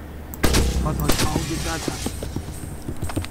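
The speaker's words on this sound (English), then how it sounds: "instead you're gonna immediately shoot twice First this light, and then just straight forward to break the window" Gunfire in the Splinter Cell game during the Defense Ministry mission, a couple of sharp shots followed by breaking glass and clattering debris, loud and close over busy game ambience.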